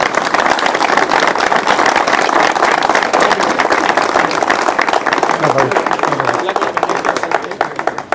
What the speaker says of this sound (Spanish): Así que un aplauso para